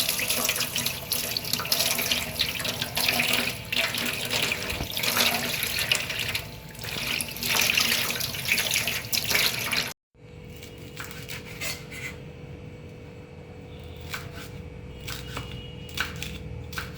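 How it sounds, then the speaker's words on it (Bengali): Running tap water washes coriander leaves, a loud, continuous splashing gush close by that cuts off abruptly. Quieter trickling and clinking handling sounds follow. "আর কিছুটা ধনিয়া পাতা ধুয়ে কেটে নিলাম।"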